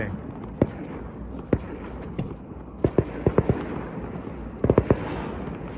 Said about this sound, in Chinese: 怎么有人在放烟火啦？